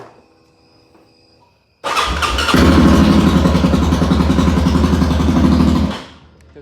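After a faint quiet lead-in, a built Honda 420 ATV engine bursts into a loud, close, rapid idle with a steady thumping beat, then cuts off and fades near the end.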